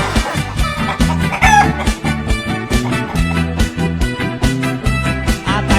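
Chicken clucks and a rooster's crow set over a steady, loud rhythmic music track, the bird calls blended into the beat rather than standing alone.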